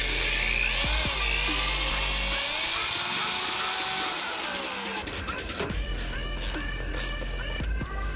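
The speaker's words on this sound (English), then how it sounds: "I can just drill through it." A power drill whines and revs up and down close by, drilling through a combat boot, its pitch rising and falling, followed by clattering handling noises and a brief spoken word.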